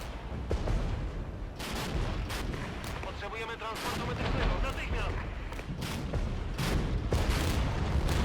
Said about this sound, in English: The artillery also coming in clutch here.